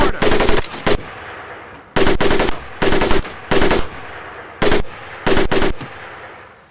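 A Tommy gun fires at a boot camp range in Medal of Honor: Pacific Assault, loud close bursts in six separate volleys, each a rapid rattle cut off sharply.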